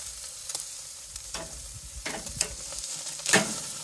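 Ribeye steaks sizzle and crackle on a screaming-hot Weber Summit Kamado grill, a soft continuous hiss broken by sharper spits and pops, close up with no talking.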